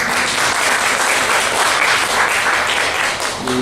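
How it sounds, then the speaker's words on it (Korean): A church congregation applauds to welcome visitors in a dense, steady burst of clapping from many hands that fills the room before tapering off. "우리 박수로 환영하겠습니다."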